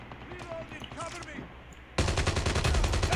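A quiet stretch with faint voices, then a sudden burst of loud, rapid gunfire in Call of Duty Mobile that keeps rattling steadily to the end.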